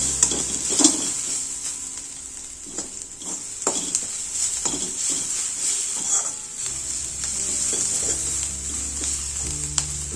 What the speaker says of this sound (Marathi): सगळं मिश्रण आहे ते असं असं असं छानपैकी परतून घ्यायचं आहे